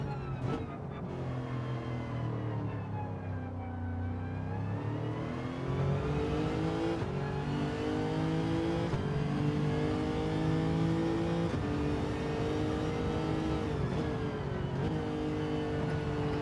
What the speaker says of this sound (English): That WRX is gone